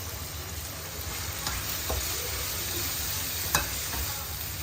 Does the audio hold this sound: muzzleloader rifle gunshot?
no